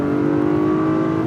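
A 2019 Acura RDX SH-AWD A-Spec accelerates hard from about 40 mph in Sport Plus, a loud, steady engine drone with a rising tonal hum heard from inside the cabin.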